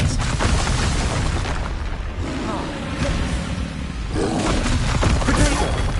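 A spell cast in the Hogwarts Legacy video game lands as a loud booming burst over dense, continuous game sound effects, with roaring, crashing textures throughout and a second surge near the end.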